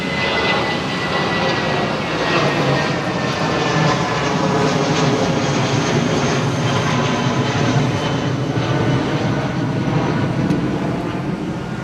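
A jet airliner departing London Heathrow runway 09R: a steady, loud, broadband engine roar with a faint whine, constant and close for the whole stretch with no breaks.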